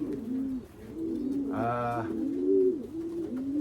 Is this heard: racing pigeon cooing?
yes